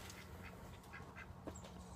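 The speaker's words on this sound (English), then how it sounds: "There's a duck over there." A duck quacking a short distance away outdoors, a few soft nasal calls spaced through a brief moment over faint background noise.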